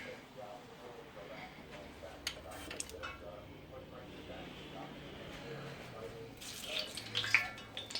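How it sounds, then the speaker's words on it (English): Oil heating for frying fish gives off a soft, faint bubbling and popping, with scattered crackles that grow slightly busier toward the end. A voice is heard over the sizzle. "That bubbly, popping, frying, boiling water type of sound."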